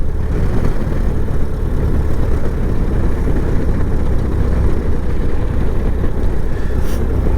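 Steady low engine drone of a Great Lakes biplane taxiing on a windy day, continuous and fairly loud, rumbling without pause through the whole stretch, with no voices over it.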